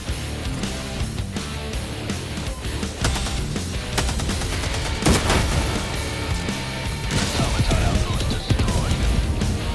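Orbital barrage strikes in a video game, a rapid continuous string of booming explosions and blasts, loud and dense, with no pauses for the full stretch.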